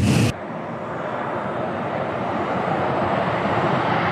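Engine of an F-35 Lightning II fifth-generation stealth fighter jet, a loud, steady broadband roar that holds evenly throughout after a brief sharper onset.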